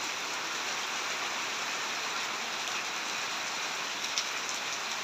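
Steady rain pours over a village, a dense, even hiss that runs without break throughout, with no thunder or voices standing out.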